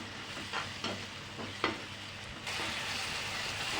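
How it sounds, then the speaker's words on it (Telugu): Tomato paste from two tomatoes fries in a pan for a jackfruit seed curry, sizzling steadily and fairly quietly up close, with a few soft scraping stirs near the start and no talk. "ఇందులో టమాటా పేస్ట్ అండి, 2 టమాటాల పేస్ట్ వేసి వీటిని కూడా బాగా కలుపుకుందాము"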